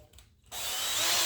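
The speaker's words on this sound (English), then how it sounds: "I'm going to drill a pilot hole here." A power drill bites into a corner piece while boring a pilot hole during a Norcold 1200 RV fridge hinge repair. It kicks in abruptly after a quiet moment and whirs steadily, loud and close, with no talk.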